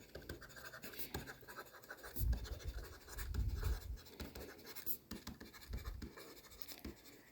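A pen scratches across paper while accounts are worked out, soft irregular strokes close to the microphone with a few heavier scrapes and brief pauses, no voice over it.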